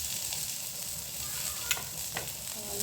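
Onion and masala frying in a pan for mutton curry, a steady close sizzle with occasional stirring scrapes and faint clicks, no voices.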